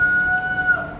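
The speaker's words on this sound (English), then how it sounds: "What do they crow for anyways? What are they crowing for?" A rooster crows close by, one loud drawn-out call that rises and trails off within a second, heard alone without talk.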